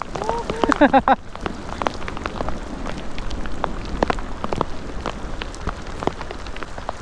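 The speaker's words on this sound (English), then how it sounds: "Wow, this is some weather here. No rain in the forecast, and uh, here it is." Steady rain falls across a lake during a pike fishing trip in a kayak, a continuous close patter of drops with a few sharper hits, and a brief voice is heard at the start.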